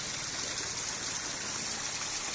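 Clear stream water flows steadily outdoors in a broad, even rushing wash with no pauses, close and moderately loud throughout.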